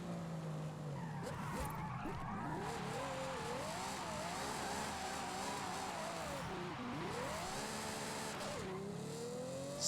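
Video game race car spinning out, its tires squealing and skidding in long sweeping wails over a continuous engine roar for nearly ten seconds.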